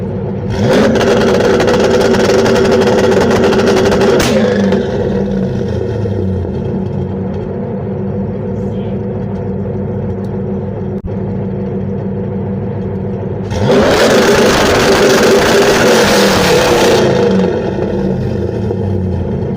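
A car engine held on an MSD two-step rev limiter at 3,500 RPM, loud stuttering revs in two bursts separated by a lower steady idle rumble, no talking.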